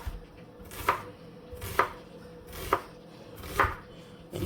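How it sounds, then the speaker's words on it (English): A knife dices an onion on a cutting board in five crisp, evenly spaced chops about a second apart, each one close and distinct over a quiet background. "fine dices of the onion. That way, when you get down to the last part, you just cut into it"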